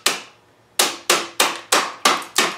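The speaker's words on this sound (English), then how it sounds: "you can take a hammer and just" A hammer knocks out the wood pieces left between saw cuts for a bed frame joint, giving six sharp, loud, closely spaced strikes after an opening hit and a short pause, with no voice.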